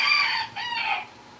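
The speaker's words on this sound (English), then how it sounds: "Roosters." A rooster crows once, loud and close, the call rising and then tailing off in a drawn-out cock-a-doodle-doo with no other sounds around it.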